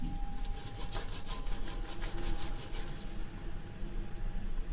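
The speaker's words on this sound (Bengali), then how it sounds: "যে দিকটা ফুটো অংশটা আছে সেই দিকটা থেকে তালটা ঘষতে হবে" Palmyra fruit scraped against the perforated side of a steel basket to force out the pulp, a rapid rhythmic rasping of repeated strokes, close and fairly soft, then slower scraping toward the end.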